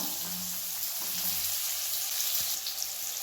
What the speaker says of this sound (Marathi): आता ह्यातच टाकूया बघा ह्या तेलात कांदा